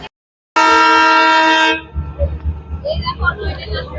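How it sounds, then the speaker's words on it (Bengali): A loud, close train horn from the Darjeeling Himalayan Railway toy train at a hill station blares in one sustained, harmonic blast for about a second, then cuts off, leaving rumbling station noise and scattered voices. "দার্জিলিং এ হিমালয় রেল স্টেশনের ঐতিহ্য টয় ট্রেন"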